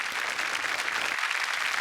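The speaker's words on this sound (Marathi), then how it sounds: "योगेश केळकर यांच्यासाठी जोरदार टाळ्या." Studio audience of the Marathi comedy show Chala Hawa Yeu Dya gives an actor a round of applause, a dense, even burst of many hands clapping throughout, with no talk on top.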